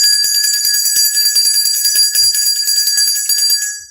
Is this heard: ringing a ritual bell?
yes